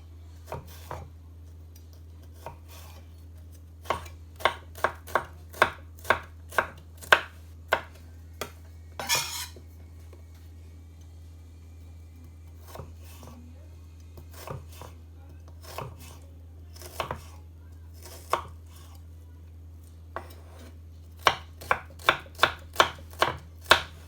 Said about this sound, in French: Donc maintenant, nous allons nous attaquer aux échalotes.